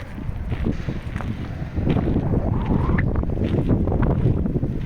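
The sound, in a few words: strong wind on microphone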